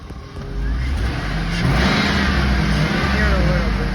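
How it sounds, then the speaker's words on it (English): A 2003 Cadillac Escalade with a leaking exhaust manifold revs up from idle to a loud, steady engine drone, held for several seconds. "Let me give it a little gas, see if you guys can hear it"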